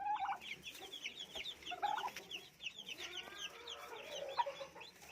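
A turkey hen that has hatched chicks clucks softly and repeatedly while they gather under her, with faint high peeping chicks and other fowl chattering throughout. The scene sounds close but quiet.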